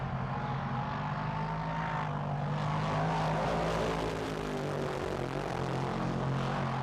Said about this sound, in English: The crackle of the V8 engine resonating around the strip in the afternoon sunshine.